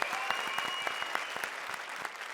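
Enthusiastic studio-audience applause for a singer on a television comedy show, a steady crackle of many hands with sharp individual claps standing out, continuous and fairly close.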